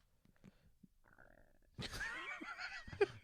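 A brief low gurgle, then a longer, louder churning rumble from a human stomach, close by in a quiet room with no talk over it.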